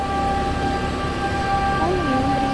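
A train rolls along railway tracks in Bicol, a steady rumbling passage with tonal horn-like lines and a rising whine, heard close and continuous over the short stretch.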